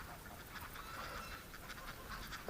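Ducks gathered together in a snowy winter driveway keep up a continuous, dense chorus of honking quacks. The calls overlap and sound fairly close, with no talking.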